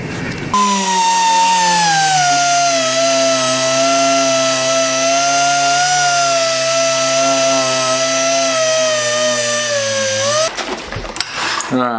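A power buffer or sander works a gun slide being smoothed ahead of a Cerakote finish, giving a loud, steady high-pitched whine that holds for about ten seconds before cutting off, with a brief clatter at the end.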